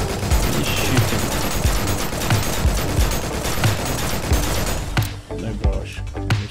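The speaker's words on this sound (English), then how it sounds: "He's shooting." Rapid bursts of video game gunfire from XERA Survival at a military compound, loud and continuous, with sharp repeated shots that thin out and end in a few separate cracks.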